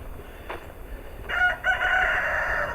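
A rooster crows on a historic rural farm in the morning, a single call rising partway through over quiet outdoor ambience, with faint clucking and rustle beforehand, moderately distant.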